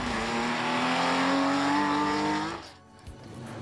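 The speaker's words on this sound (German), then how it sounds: "Fahrer Horst Wendorf verlangt dem 30 Jahre alten Porsche alles ab" A 30-year-old Porsche is pushed hard on Sardinian rally roads during the Coppa Costa Smeralda, its engine a loud sustained roar whose pitch climbs steadily before dropping away abruptly.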